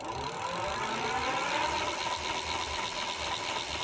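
A fat-tyre electric bike's hub motor whirs steadily as the throttle is twisted, a continuous close mechanical hum with a faint higher whine that holds even throughout.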